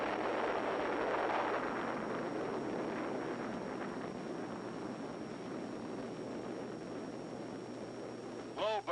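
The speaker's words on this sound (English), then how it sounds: "Big bomb." A big bomb goes off at the Nevada test site in 1951, heard as a long, distant rolling rumble that gradually fades away and ends with a brief tonal sweep.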